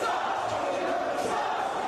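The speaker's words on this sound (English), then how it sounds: "They're cheering Claudio now" A wrestling crowd cheers for Claudio, a steady dense roar of many voices that fills the whole moment without a break.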